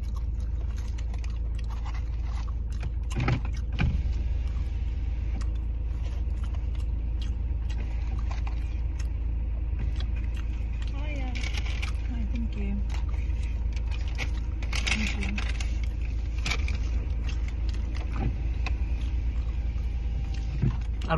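Steady low engine rumble and road noise inside a moving car, continuous throughout, with occasional bumps, rustles and faint voices underneath.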